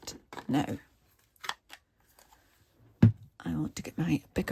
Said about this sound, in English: now I want to get my bigger scissors